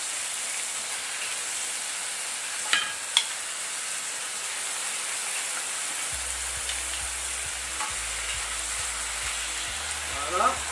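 Meat dropped into a pan already holding apricot, lemon and garlic, sizzling as a steady bright hiss throughout, with a few light clinks and a low hum near the end.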